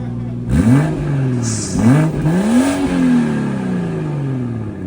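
BMW X3 M40i with an aftermarket Valvetronic exhaust, valves open, revved hard three times up close, each rev a loud rising roar that falls back toward a steady idle hum.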